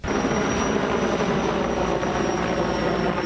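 A helicopter battles a large factory fire, its loud, steady rotor and engine roar filling the whole stretch with a continuous close drone and no talk.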